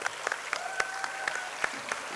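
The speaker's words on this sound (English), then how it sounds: "Give a big round of applause to our director" An audience at a school prize distribution gives a round of applause for the director, scattered fairly sparse claps with some sharp individual hits over a faint tonal hum.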